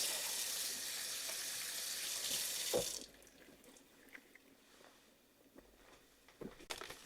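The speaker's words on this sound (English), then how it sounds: "And we thoroughly wash your hands before we all start." Hands washed under a running kitchen tap: a steady loud stream of water for about three seconds, then the flow stops, leaving faint drips, rubbing and small handling clatter.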